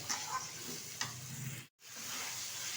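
Chicken frying with spices in a pan for a red chicken kosha, a continuous bright sizzle with stirring scrapes, a brief cut to silence midway before the sizzling resumes, close up and without talk.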